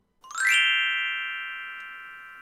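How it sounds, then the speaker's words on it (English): A single bright glockenspiel note from a sound-effect app strikes with a quick shimmering attack, then rings on as a clear metallic tone that slowly fades. No one speaks. "We have a glockenspiel."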